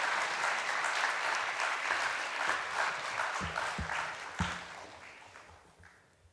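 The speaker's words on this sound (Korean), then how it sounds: "박수로 환영하겠습니다" A congregation at a Friday night prayer meeting in a church applauds to welcome a pastor to the stage. The clapping is full and sustained, then gradually thins and fades.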